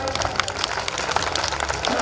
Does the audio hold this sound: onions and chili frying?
no